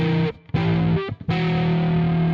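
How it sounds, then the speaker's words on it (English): Electric guitar run through heavy distortion sounding Hungarian minor scale intervals: thick sustained notes ringing together, broken by two brief silent gaps before the final interval rings out, loud and without speech. "So those are the core sounds of the Hungarian minor scale to me."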